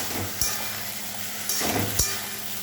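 Ginger, garlic, tomato and green chilli paste frying in a pan, a continuous hiss of sizzling with three spoon scrapes and knocks against the pan, close up and without talk.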